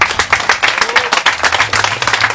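Political rally crowd of supporters and activists claps loudly at close range, with uneven, choppy bursts of individual hand claps forming a rhythmic round of applause.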